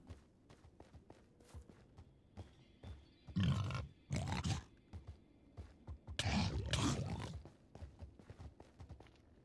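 Pig grunts from Minecraft, two louder bursts rising over steady in-game footsteps and clicks, close and fairly loud.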